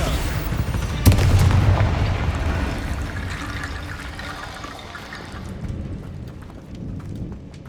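A Bombarda explosion spell from Hogwarts Legacy bursts with one sudden loud blast followed by a long rumbling, thunder-like decay that fades into a steady wash of background noise.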